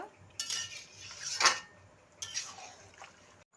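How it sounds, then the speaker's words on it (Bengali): A utensil works through mutton and rice in a pot for biryani, making a few separate bursts of metallic scraping and clinking, close and moderately loud, with quiet pauses between strokes. "মাংসটা ভালো করে কষাতে থাকবো তেল বেরোনো পর্যন্ত"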